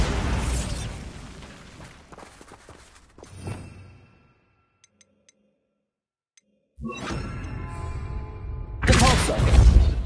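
Blasting explosions from the Bombarda spell in Hogwarts Legacy: a broadband burst opens, a smaller thud follows mid-clip, then after a near-silent gap a sustained loud blast and a final heavy boom close it out.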